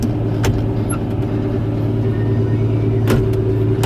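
Vehicle engine towing a trailer up a hill, a steady loud low rumble with a constant drone and a few brief knocks, with no talking.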